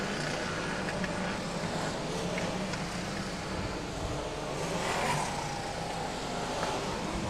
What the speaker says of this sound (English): That's the green, so we get racing with the grand final.